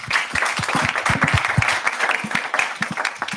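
Room full of people at a PHP developer meetup applauding after a talk, dense clapping with some louder individual claps near the front, steady for a few seconds.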